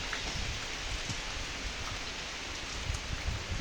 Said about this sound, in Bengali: ভালোই হোক বৃষ্টি কিন্তু জলের ইসে আসছে ছিট আসছে